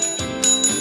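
A quiz-show bell is rung repeatedly, giving three bright metallic dings that ring on with sustained tones, loud and close, with no voices.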